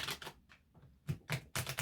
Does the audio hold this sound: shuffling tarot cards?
yes